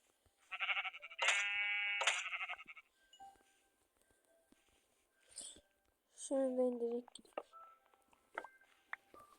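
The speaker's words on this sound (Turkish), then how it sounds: "Ben şu koyunu da keseyim" A sheep bleats a few times with a slightly electronic quality in Minecraft, mixed with short beeping tones and a voice speaking nearby.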